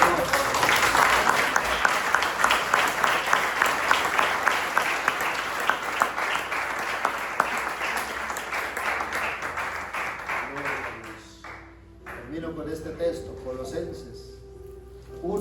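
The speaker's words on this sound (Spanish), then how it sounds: "Y le damos un aplauso al Señor." A church congregation applauds the Lord in a dense, loud burst of clapping for about eleven seconds, then it fades out and a voice carries on speaking alone.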